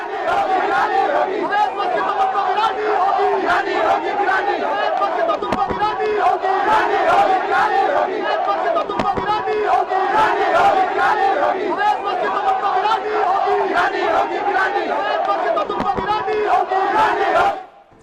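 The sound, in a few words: crowd of protesters outside a mosque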